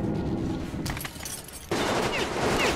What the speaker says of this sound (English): Shotgun pula.